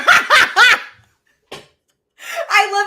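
A dog barks close by in a quick burst of three sharp barks, then a single short bark after a pause. A louder run of barking or laughter-like sounds follows.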